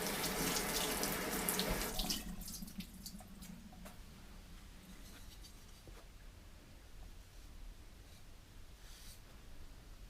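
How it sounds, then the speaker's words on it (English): Running tap water splashes loudly into a sink while a sponge is rinsed during ceramic underglaze work on bisque, then the flow stops and quiet dripping and small handling sounds follow. "So then you keep rinsing your sponge."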